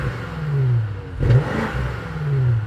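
A 2025 BMW M5 engine revs up and falls back in two swells with a whirring mechanical tone, fairly close and steady, without voices.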